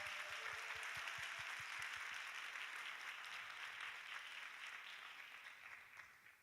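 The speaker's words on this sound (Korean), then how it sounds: "우리 박수로 축복해 주시기 바랍니다" A church young adults' gathering at Onnuri Church applauds to bless a visiting elder, steady clapping heard faint and distant that gradually thins out toward the end.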